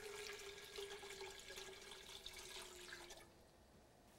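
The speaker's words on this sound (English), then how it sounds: "I'm going to add 4 cups of water" Four cups of water pour into a large stock pot holding cooked meat, a soft, steady trickle and splash with a faint ringing tone that tapers off after about three seconds, quiet and close.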